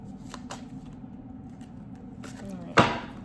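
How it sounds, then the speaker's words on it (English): Tarot cards being shuffled by hand for a zodiac reading, a soft papery riffle running under quiet background noise before a single sharp, louder card snap near the end. "Shuffle these cards a little bit."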